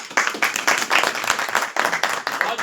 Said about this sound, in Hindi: मैं जोरदार तालियों के बीच में आपसे सदाली बखार का इस्तेमाल चाहता हूँ।